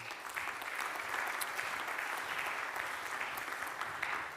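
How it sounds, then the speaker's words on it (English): An audience gives steady, moderately loud applause as panelists walk on stage at a panel event, a dense wash of clapping that holds evenly throughout. "Let's give all of them a round of applause"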